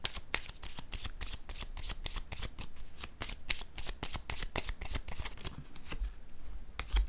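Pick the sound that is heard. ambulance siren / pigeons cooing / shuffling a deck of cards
shuffling a deck of cards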